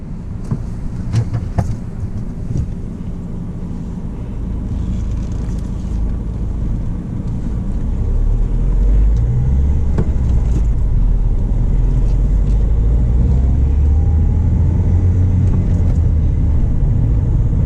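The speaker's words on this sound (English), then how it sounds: "It does feel that the engine has to pull the car." Steady low rumble from a Mahindra XUV 500 SUV engine while driving, heard from inside the cabin, swelling louder and heavier partway through as the engine pulls, with road noise underneath and a few light knocks early on.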